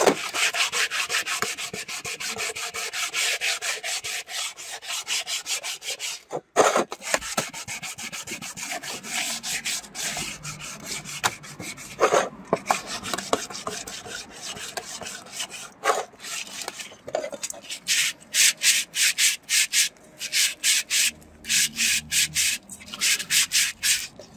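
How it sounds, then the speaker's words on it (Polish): Steady scratchy rubbing of sandpaper on corroded metal headlamp reflector frames from a Bison Zelmot, close and continuous, with short pauses and quicker rhythmic strokes toward the end. "Ale mimo wszystko trzeba je jeszcze raz przeszlifować,"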